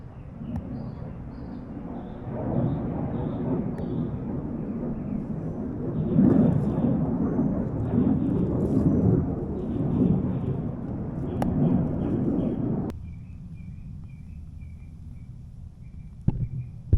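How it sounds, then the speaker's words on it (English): Thunder from a storm rolls over a campfire cooking spot by a bridge in the Keys, long deep rumbling that swells and fades over many seconds, with faint bird chirps and a sharp crack near the end. "there's thunder and lightning starting right as I begin to cook"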